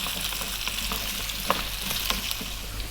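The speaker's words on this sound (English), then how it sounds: "So we're going to fry these around for about 4 to 5 minutes" Chunky potato pieces fry in a pan with a dense, even sizzle, and a few faint utensil taps sound close by.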